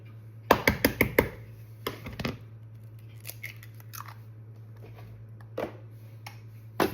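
A single egg is cracked for a boxed birthday cake mix: a quick cluster of sharp, crunchy cracks and taps near the start, then quieter handling clicks and a few isolated knocks over a steady low hum.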